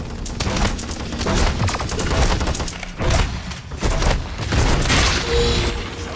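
Rapid gunfire in the online shooter Paladins on a beach map, with dense bursts of repeated shots in irregular volleys throughout, loud and close amid game effects.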